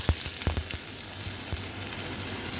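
Black cumin seeds and dried red chillies frying in hot oil give a steady close sizzle, with a few sharp spits and pops near the start.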